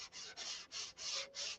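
Rhythmic strokes of sandpaper on a model airplane with beam wings, five steady back-and-forth rubbing passes, close and fairly quiet, with no talking.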